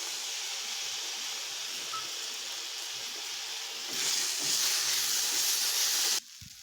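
Chopped tomato and green chilli sauté in a hot pan for a soybean curry, giving a steady, close hiss that swells louder midway, then cuts off abruptly near the end.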